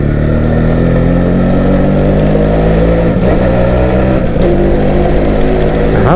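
A Suzuki AX 100 motorcycle engine runs loud and close in a steady drone, with slight shifts in pitch as it revs.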